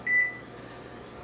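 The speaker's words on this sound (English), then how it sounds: "Okay, the timer's about to go off" A kitchen oven timer gives a single short, clear electronic beep, close by, during cookie baking, followed by quiet room noise.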